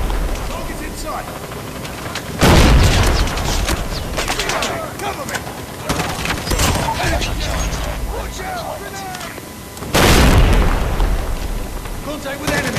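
Grenade explosions in a video game, with two loud booming blasts several seconds apart among rattling gunfire and other battle noise, while voices call out over the action.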